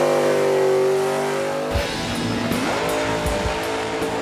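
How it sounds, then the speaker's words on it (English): Cars drag racing at an LS engine festival drag strip, a loud engine roar sweeping up in pitch, then a sharp drop as gears change, with repeated rising revs and faint tire noise. "maybe we should have some drag racing too"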